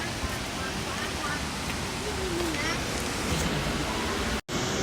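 Rain falls at Aliwagwag Falls in Davao, a dense continuous hiss of drops and rushing water close around the microphone, with a few faint voices underneath and a brief cut near the end.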